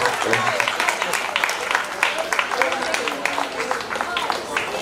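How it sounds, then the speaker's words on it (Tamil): An audience claps at a residents' association annual general meeting prize-giving, a lively, uneven burst of applause with individual hand claps standing out, a voice faintly heard at times. "ஒரு சின்ன கைத்தட்டு கொடுத்தா நல்லா இருக்குமே"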